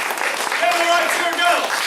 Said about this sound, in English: Give her a right cheer,